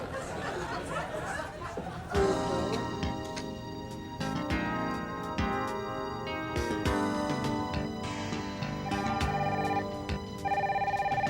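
A telephone keeps ringing on a comedy sketch set in a radio call-in show, with repeated bright electronic trills in bursts over a music-like bed and some laughter and chatter in the background.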